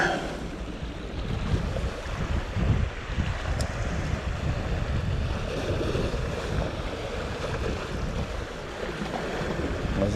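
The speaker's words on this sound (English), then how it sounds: "There's a bit of a side wind." Side wind blowing across a sea shore while lure fishing for wrasse after a night of strong weather, a steady loud rushing and buffeting with low rumble and surf beneath, no voices.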